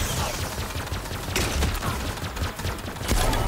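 Rapid gunfire from a weapon in the video game Grapple Tournament, a dense continuous burst of shots with sharp cracks standing out, loud and close throughout.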